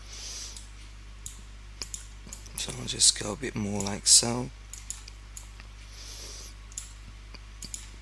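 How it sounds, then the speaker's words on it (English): Rapid computer mouse clicks tap away while sampling with Photoshop's clone stamp tool, quiet close-up clicks scattered throughout with someone talking in the middle. "And you can hear me clicking a lot."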